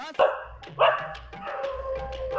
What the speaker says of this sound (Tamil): அப்பார்ட்மெண்ட்குள்ள வீடு எடுக்கும்போது நாய் கத்த ஆரம்பிச்சுட்டு